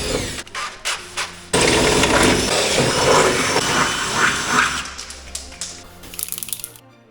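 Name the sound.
drilling holes through car body metal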